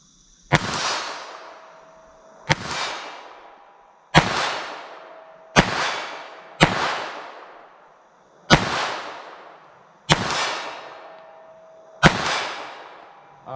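.32 ACP pistol shots fired at a 25-yard range, eight sharp single cracks spaced roughly two seconds apart, each with a short decaying tail, loud and close with no speech between them.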